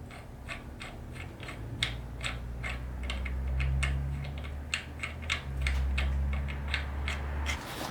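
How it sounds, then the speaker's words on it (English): A new crank bolt being threaded into a built Mazdaspeed engine, producing a rapid series of sharp ratcheting clicks close up over a low mechanical hum, with no voices. "Now our brand new crank bolt threads in."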